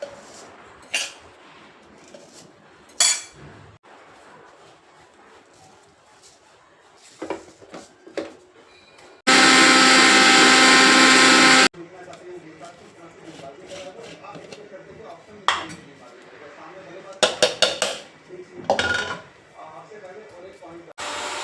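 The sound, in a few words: mixer grinder grinding dried rice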